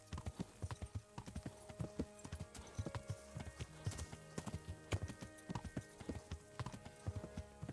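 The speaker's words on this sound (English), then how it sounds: "Horse is gonna need to rest in a minute." Horse hooves clip-clop in steady, rapid rhythm in the video game Kingdom Come: Deliverance, fairly quiet and continuous, with no talk over them.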